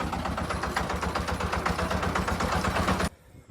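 A tractor pulling a cutter through a wet cotton field runs steadily with a rapid rhythmic chugging, loud and close, then cuts off abruptly near the end.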